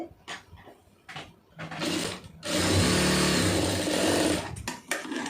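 A sewing machine stitches puff sleeve lining in short bursts: brief whirring runs, then a longer loud steady hum. A few knocks of handling the fabric come between the runs, close by.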